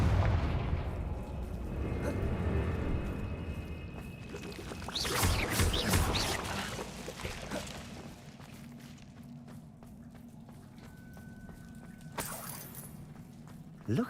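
In the video game Hogwarts Legacy the Confringo spell goes off as a loud booming explosive burst with crackling debris, preceded by rumbling game ambience, followed by a quieter stretch and another sharp hit near the end.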